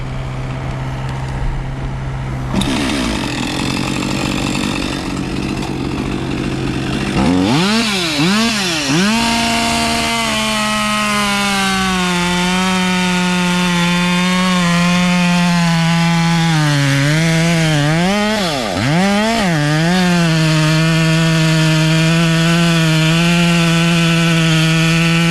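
Husqvarna 564XP chainsaw idling, then revved hard and bored into an oak log, a loud close engine whine that rises and dips as it loads in the hardwood, cutting steadily with brief revs between pushes.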